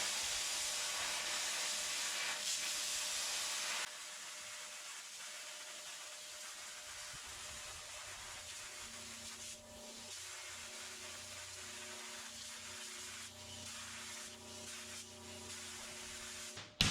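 A plasma torch cutting metal freehand with compressed air gives a steady, close, loud hiss that drops slightly in level partway through and carries a low hum underneath until a brief clunk at the end.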